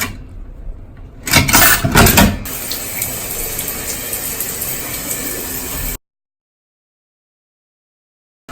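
A coin-operated shower sprays water steadily with a loud hiss and a brief louder surge near the start, then cuts off abruptly into silence.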